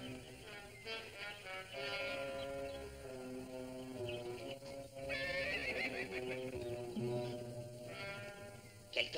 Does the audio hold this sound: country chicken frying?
no